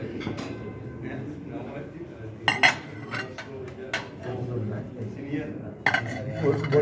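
Plates and cutlery clink and clatter repeatedly in a room during a plate-holding demonstration at a protocol and etiquette training session, with sharp bursts of china contact standing out over steady background chatter.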